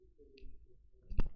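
A computer mouse clicks while working in ANSYS software, a faint click near the start and a sharper, louder one toward the end, close and isolated in near silence.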